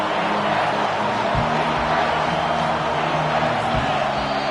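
Loud, dense roar of a college football stadium crowd in the fourth quarter on a third down, a steady wall of cheering and yelling with no break.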